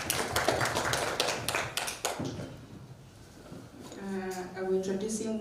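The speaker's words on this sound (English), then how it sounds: "A big round of applause to them." An audience at a monthly forum on ageing applauds, with a burst of dense clapping that gradually fades. A voice takes over at the end.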